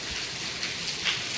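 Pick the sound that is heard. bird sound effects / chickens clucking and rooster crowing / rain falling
rain falling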